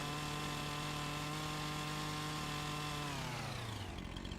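Chainsaw cutting outdoors at night on a farm, a steady loud droning engine roar held for several seconds before its pitch sags and winds down near the end.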